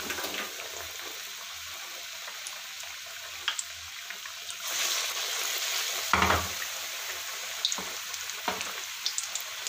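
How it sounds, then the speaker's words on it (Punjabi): Aloo tikki fry in hot oil with a steady, loud, close sizzle and crackle, swelling briefly midway, with occasional clinks and scrapes from turning the patties. "ਹੁਣ ਆਪਾਂ ਇਹਨਾਂ ਨੂੰ ਬਾਹਰ ਕੱਢ ਲਾਂਗੇ ਫਰਾਈ ਹੋ ਚੁੱਕੀਆਂ ਨੇ ਦੇਖੋ"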